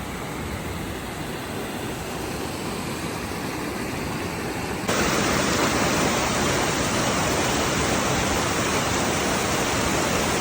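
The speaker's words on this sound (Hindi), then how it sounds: "ये पानी आ रहा है सीधा पहाड़ों से।" A mountain stream runs beside a high trekking trail in the Himalayan foothills. The water gives a loud, dense, continuous roar that swells noticeably halfway through, as if closer to the flow, with no voices.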